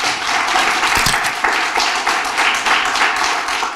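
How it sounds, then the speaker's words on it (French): Audience applause greets a human resources director called up at an event marking ten years of a supervision program, a moderate, continuous patter of many hands. "On l'applaudit."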